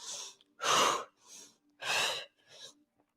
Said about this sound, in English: So the breath gets quite quick.